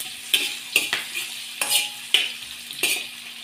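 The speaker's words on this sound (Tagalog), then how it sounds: "Unahin ko yung mga idol, sibuyas para di masunog." Onions frying in a large pan give a constant close sizzle, broken every half second or so by the scrape and clatter of a utensil stirring them.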